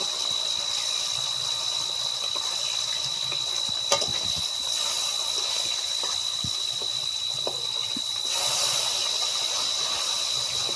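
Fish frying in hot oil in a wok with salt added to the oil, a steady loud sizzle and hiss running throughout with occasional pops and clatter.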